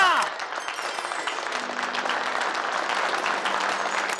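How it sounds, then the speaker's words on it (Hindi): Steady audience applause rolls on at moderate volume for several seconds, a dense wash of many hands clapping together with a faint voice near the start. "तालियां!"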